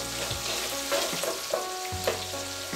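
Onions sizzle and fry in an oily pan while a spoon stirs them for a moong dal curry, a close steady crackle broken by several scraping strokes, with no talk.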